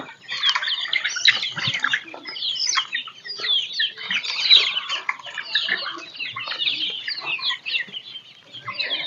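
Several chickens cluck and chatter close by in a busy, overlapping stream of short calls, continuing throughout with no one speaking.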